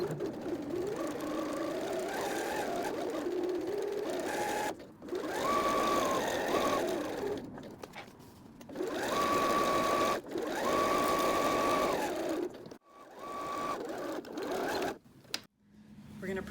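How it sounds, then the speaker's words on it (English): Home sewing machine stitching the side and bottom seams of a fabric library bag at a half-inch seam allowance, running in several long whirring bursts with short pauses between them and rising and falling in speed. "So we're going to sew the two sides in the bottom"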